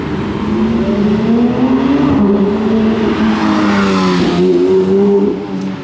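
A GMK-modified Porsche GT3 RS sports car on a Monaco street revs loudly and close, its engine note rising and falling through several throttle blips with a strong, sustained roar.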